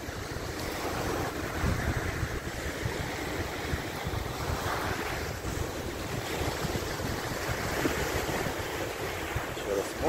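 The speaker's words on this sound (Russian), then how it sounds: "Море, море, море, море, море, море." Sea waves wash onto the shore in a continuous rushing surf, mixed with strong wind buffeting the microphone throughout and no clear talk.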